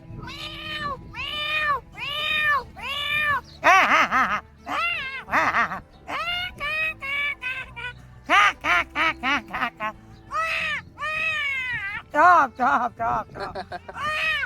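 A man imitates a cat with a long run of drawn-out, wavering meows, loud and close, each call rising and falling, repeated rhythmically with short gaps among a group gathered at a pilgrimage outing.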